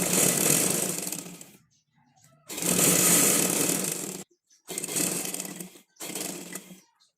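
A sewing machine stitches fabric for a child's frock, running in four loud bursts of steady whirring motor noise separated by brief silent pauses.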